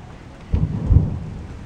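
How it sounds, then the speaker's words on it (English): Deep rumbles roll through the start of rain in an Ohio storm, two low swells rising over a steady wash of noise, heavy and nearby with no voices. "the rain is just now starting to hit"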